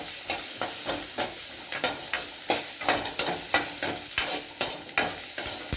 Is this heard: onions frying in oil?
yes